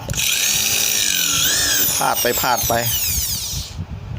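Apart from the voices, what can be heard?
power drill drilling into a trimmer line disc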